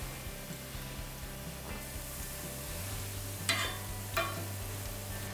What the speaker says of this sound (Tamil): மிதமான சூடில் வச்சு தான் நம்ம பொரிச்சு எடுக்கணும்